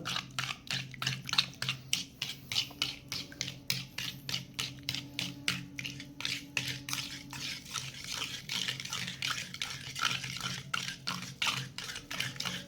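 Cake batter with milk powder stirred briskly in a bowl, a rapid, steady rhythm of wet clicking and tapping strokes repeating close up for the whole stretch.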